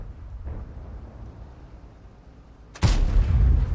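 The 13 cm gun of an SU-130 PM tank destroyer fires in a World of Tanks battle: a faint distant thump sounds early, then a sudden loud, heavy boom with a rumbling tail that carries on to the end.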